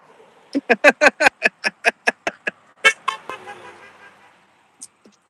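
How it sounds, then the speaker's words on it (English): Car horns honk in a rapid run of about a dozen short, loud toots, followed by a few more scattered beeps. "We're getting a lot of honks."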